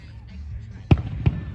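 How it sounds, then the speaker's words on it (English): Two distant Fourth of July firework booms thud a fraction of a second apart over a low outdoor rumble. "I don't want to move, because fireworks are going."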